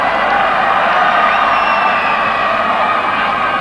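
A football crowd at a Celtic–Liverpool match roars steadily, a broad, sustained cheer from the stands with no break.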